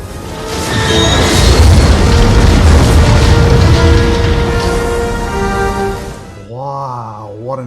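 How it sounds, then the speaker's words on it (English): A loud, deep explosion from the film Indiana Jones and the Last Crusade (1989) roars and rumbles for several seconds before fading, followed by a brief tonal sound at the end. "what an explosion"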